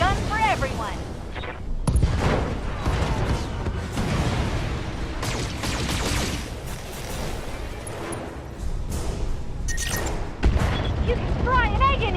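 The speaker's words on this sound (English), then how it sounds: "So yeah, I have to fire the SRM." A BattleTech mech firing SRM missiles: repeated booming launches and impacts with mechanical clanks and rumbling, layered with game effects, while voices speak over the action throughout.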